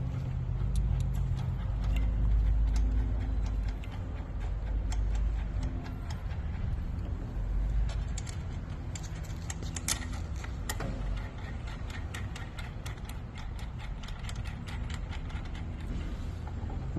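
Bolts being hand-screwed back into their holes during assembly of a Trailmaster TM31/TM33/TM35, giving irregular small metallic ticks and ratcheting clicks over a steady low background hum, close and moderately quiet.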